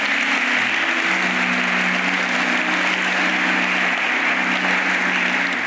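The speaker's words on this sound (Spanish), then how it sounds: "¿Alguien puede aplaudir a Jesús por eso?" Church congregation applause during a Spanish-language Sunday sermon, a loud, dense and unbroken roar of clapping lasting several seconds, with a faint low sustained tone beneath it.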